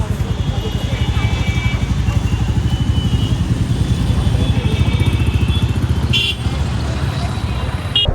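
A new Royal Enfield motorcycle engine runs steadily throughout a test ride, a continuous low rumble with wind and road noise, plus a brief clatter near the end.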